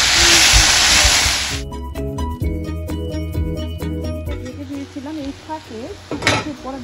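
Potatoes tipped into a hot pan for a home-cooked dish crackle in a loud, bright sizzle at first, then give way to stirring and clinking of utensil against the pan with a softer frying hiss underneath.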